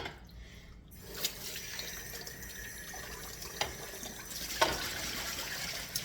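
Hot water from a kitchen tap runs steadily into a mixing bowl for bread dough, a soft continuous hiss and trickle heard close up with a few light clinks.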